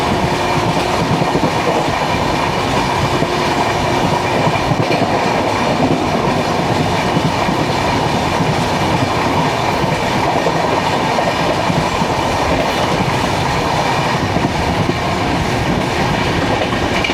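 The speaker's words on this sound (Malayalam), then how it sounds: "സൗരാഷ്ട്ര ജനത എക്സ്പ്രസ് ആണ്, വെരാവൽ മുംബൈ" Saurashtra Janata Express running from Veraval toward Mumbai, a steady loud rumble of wheels and carriages with faint rhythmic clatter throughout, no voices.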